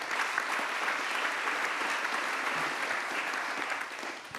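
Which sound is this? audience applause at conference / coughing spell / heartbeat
audience applause at conference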